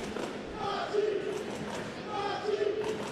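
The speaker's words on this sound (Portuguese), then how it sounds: "Torcida empolgada grita o nome do Brasil." An excited crowd at a Pan American Games judo match in Toronto chants and cheers for Brazil, a steady rhythmic roar filling the arena with rising swells of voices.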